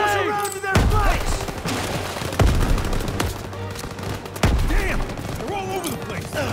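Bursts of machine-gun fire in the World War II shooter Call of Duty, rapid dense rattling volleys in several loud stretches, mixed with explosions and game sounds while voices talk over the battle.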